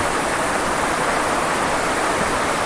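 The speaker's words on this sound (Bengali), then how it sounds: "উপর থেকে কিছুটা নেমে আসার পর আমরা একদম ওয়াটারফলসের উপরে এসে পৌঁছলাম।" Waterfall on a hillside trail near Netarhat, seen from right at the top of the falls: a steady, loud, unbroken rush of falling water fills the air with no other sounds.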